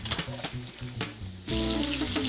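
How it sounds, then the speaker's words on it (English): Bacon fries in a pan, starting with a few rhythmic knocks or taps, then swelling into a loud, steady sizzle partway through, close by. "sounds like bacon. Sounds like somebody's cooking breakfast for dinner"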